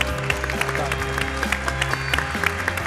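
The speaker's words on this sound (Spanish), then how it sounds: "Un aplauso para ella." An audience claps at a panel event, applause steady and moderately loud throughout, crowd noise with no clear speech.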